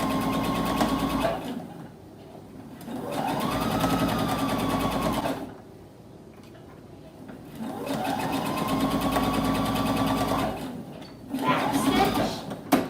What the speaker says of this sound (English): And when you get to the end, make a back stitch.